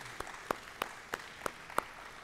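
Applause at a dairy symposium during the World Dairy Expo: six evenly spaced, crisp claps at a steady rhythm over a quiet room hum, with no speech.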